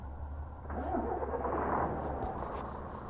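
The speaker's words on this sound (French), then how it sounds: "écoutez-moi tout simplement ce doux son de moteur qui démarre" A truck engine in the driving game Truckers of Europe 3 cranks and catches, swelling into a steady, close idle rumble after a short quiet start.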